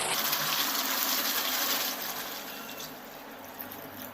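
Water poured into a simmering black nagarai fish curry in a pot, a steady gushing splash for about two seconds that then softens into a quieter bubbling trickle, close and fairly loud.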